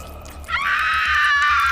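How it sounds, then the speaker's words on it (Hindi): A woman lets out a sudden high, sustained scream of terror, a horror-story effect that bursts in after a quiet low pulsing bed and holds loud to the end. "उस शख्स का भयानक रूप देखकर निधि के हलक से चीख निकल गई।"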